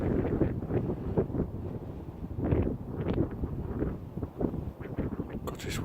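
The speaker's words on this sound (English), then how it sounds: "this wind's cold" Cold wind buffeting a microphone outdoors near Cambridge, continuous low rumbling gusts that rise and fall in strength and stay loud and close throughout.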